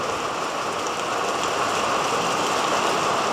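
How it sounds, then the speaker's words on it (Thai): Steady rain pours on a rural rice-farming village, a dense, even hiss running unbroken from start to finish with no voices. "วันนี้ฝนตก"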